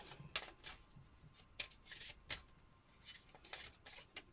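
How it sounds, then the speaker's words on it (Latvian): Angel oracle cards being shuffled by hand, a quiet, close papery riffling in a run of short bursts with brief pauses between, no talking. "Tātad izvilksim vēl arī trešo kārtu"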